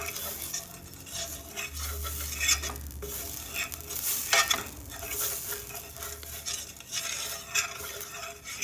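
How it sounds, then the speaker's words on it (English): A fork stirs cabbage around a hot pan over medium-high heat, scraping and clinking against the metal in uneven strokes while the vegetables sizzle and crackle underneath, with no talking. "I'm just going to stir this around in the pan, medium-high heat"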